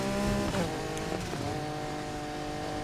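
A Lamborghini Diablo engine in Need for Speed Heat drones steadily at high revs, with a brief dip and pitch shift partway through, a continuous loud game engine note with no voices.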